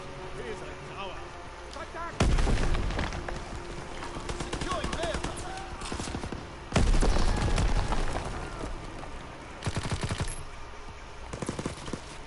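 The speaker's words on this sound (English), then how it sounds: "Incoming enemy artillery." Enemy artillery fire in Call of Duty: WWII rolls in as three heavy, booming bursts spaced several seconds apart over a continuous din of distant gunfire and battlefield noise.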